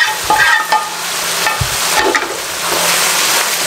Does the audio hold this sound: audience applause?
no